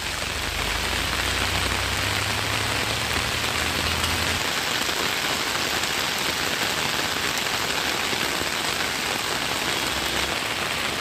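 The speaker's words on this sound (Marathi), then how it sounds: "ही दृश्य आपण बघतोय मुसळधार पावसाने कशा पद्धतीने लातूरला झोडपून काढलाय" Heavy monsoon rain pouring down in Latur, Maharashtra: a loud, unbroken wash of rain hitting surfaces, dense and close throughout, with a low rumble early on and no voices.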